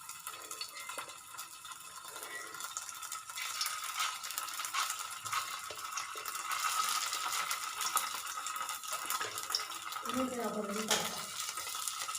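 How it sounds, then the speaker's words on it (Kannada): A snack fries in hot oil in a pan, turned so both sides cook, with a steady, continuous sizzle throughout and light kitchen clatter near the end. "ಈ ರೀತಿ ಎರಡು ಸೈಡ್ ಬದಿಯಲ್ಲೂ ಫ್ರೈ ಮಾಡಬೇಕು"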